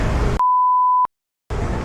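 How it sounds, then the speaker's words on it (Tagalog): A single sustained electronic beep at one steady tone cuts in sharply between bursts of loud background noise, then stops, followed by a moment of silence before the noise returns. "Wala na, beep na naman yun."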